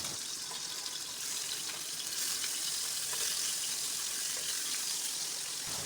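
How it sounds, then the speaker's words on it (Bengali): Rohu fish pieces frying in hot oil in a wok over a high flame give a steady, even sizzle and hiss that runs the whole time, close by and fairly quiet. "তেল গরম হলে মাছগুলো দিয়ে দিচ্ছি।"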